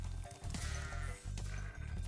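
Goats in the Stonehill level of Spyro the Dragon bleat over busy game music, several wavering calls standing out against a continuous loud backdrop.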